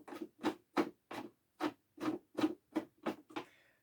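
Screws are being turned out of the motor cover of a Hoover Turbopower 2 vacuum cleaner, a close series of about ten short, scratchy ratcheting rasps in a steady rhythm.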